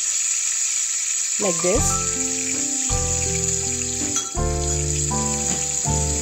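Onions sauteing in a pan while making sambhar, a steady frying sizzle. A voice speaks over it with melodic tones.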